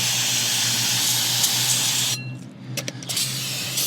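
Brake cleaner sprayed in a long, loud continuous hiss over a low hum, cut off abruptly, followed by a few short sputtering bursts.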